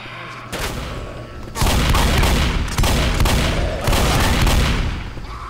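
Rapid bursts of shotgun fire in the Left 4 Dead video game, loud blasts in several clustered volleys with short pauses between them.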